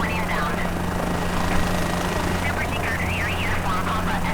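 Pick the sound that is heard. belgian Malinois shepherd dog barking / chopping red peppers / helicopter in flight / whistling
helicopter in flight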